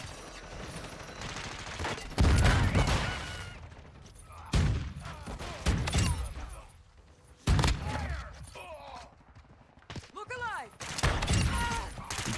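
Bryson 800 shotgun blasts in Call of Duty: Modern Warfare 2 multiplayer, several loud booming shots spaced a few seconds apart amid game noise, with someone talking between them.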